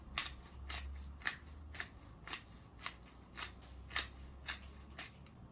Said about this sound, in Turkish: Biraz da karabiber kırıyorum.